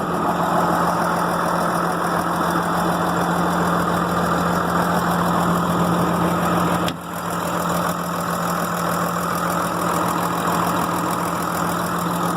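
A New Holland 8770 tractor engine idles steadily up close with a low, even drone and a constant hum, briefly dipping about halfway through before settling back to the same level.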